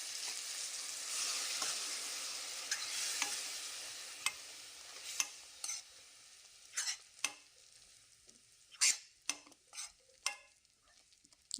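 A spoon stirs ground masala paste mixed with water in a pan for egg gravy. A gentle sizzle sits under scraping strokes that grow louder and more frequent toward the end.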